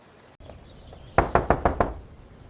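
Five sharp knocks on a house door in a family drama scene, evenly spaced and fairly loud, following a faint tap, with no talking.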